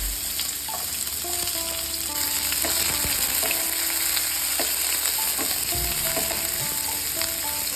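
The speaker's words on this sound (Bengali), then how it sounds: "রসুন আর লঙ্কা একটু হালকা ভাজা হলে দিয়ে দেবো পেঁয়াজটা" Chopped garlic, chilli and onion frying in a pan, a loud continuous sizzle with occasional stirring scrapes, close and steady with no talking.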